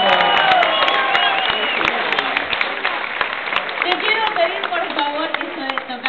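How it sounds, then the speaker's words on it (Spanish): Convention audience at Anicomix 2015 breaks into applause, a dense steady clapping wash with shouted voices and cheers layered on top throughout, loud and close. "¡Fuerte el aplauso!"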